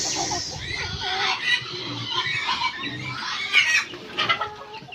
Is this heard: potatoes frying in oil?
no